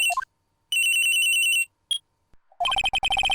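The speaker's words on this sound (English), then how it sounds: "At around 10:30, I received a call on my cell phone." Electronic cell phone ringtone from the Phoenix Wright: Ace Attorney Trilogy game, with a short rising chirp, a sustained bright tone, then a rapid series of staccato beeps, loud and alone.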